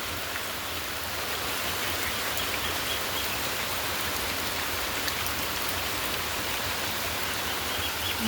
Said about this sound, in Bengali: বৃষ্টির পানি কিভাবে পড়তেছে, একদম বন্ধ হচ্ছে না বৃষ্টি